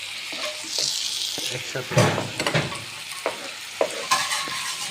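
Malabar spinach and red amaranth greens stir-fry in a pan with a bright, crackling sizzle and scraping strokes from stirring. A voice speaks briefly over the cooking.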